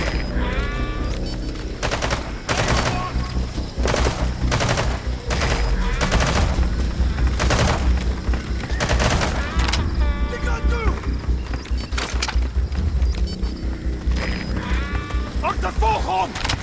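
Rapid bursts of gunfire from the video game Metal Gear Solid V: The Phantom Pain, loud and dense, with repeated volleys sounding through a busy mix of music and game sounds, and voices speaking over the action.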